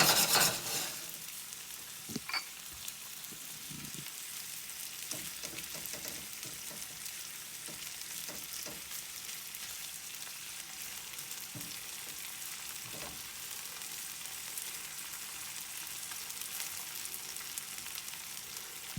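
Meat and mushrooms warming in a pan, a soft continuous sizzle with occasional stirring scrapes and light clicks, faint and steady throughout with no voices.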